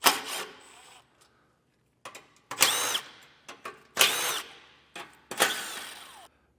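A power tool spins out 7mm bolts on a 2024 Cadillac Escalade during a base plate install, giving several short, sharp whirring bursts separated by pauses, loud and close, with no talk over them.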